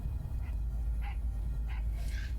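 Dog barks ring out from a video game, several short yips and whimpers spread across a couple of seconds over a steady low hum, fairly quiet in the mix.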